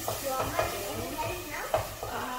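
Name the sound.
sambar cooking on high heat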